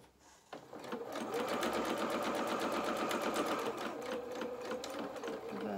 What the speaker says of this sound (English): And we're only sewing the sleeves.